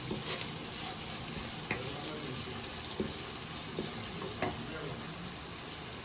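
Bitter gourd fries in a pan as onions are added and stirred, a steady sizzle with occasional scraping knocks of the spoon, close and continuous.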